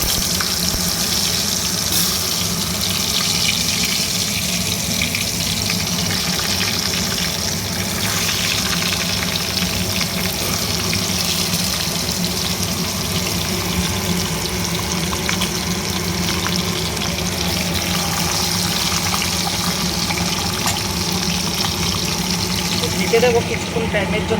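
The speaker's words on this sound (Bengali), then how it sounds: "অল্প অল্প করে সবগুলো পটলই ভেজে তুলে নেব।" Marinated pointed gourd (potol) pieces fry in hot oil in a kadai, giving a continuous, even sizzle that holds steady throughout while someone talks over it.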